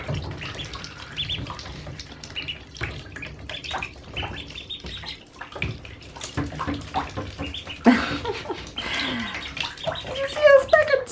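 Baby ducklings splash and paddle in bath water, with small chirps and peeps scattered throughout, a running tap or sloshing underneath, and voices talking over the scene.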